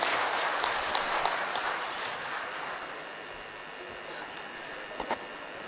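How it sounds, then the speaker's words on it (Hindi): A crowd at a political event in Bihar applauds to welcome a Rajya Sabha member to the stage, with dense, steady clapping that gradually fades and a few louder claps near the end. "जोरदार तालियों से स्वागत अभिनंदन।"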